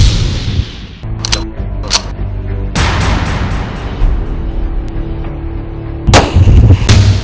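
Sniper rifle shots fired at a target on a high mountain during a Sindh Rangers operation against terrorists: several sharp, loud cracks with a booming tail, spaced a second or more apart over a steady tonal music bed.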